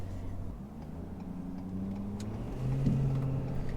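A 2020 Ford F350 or 2017 F550 Powerstroke diesel pickup merges onto a busy highway, its engine droning low and steady inside the cab, then rising in pitch and loudness as it speeds up, with no talk.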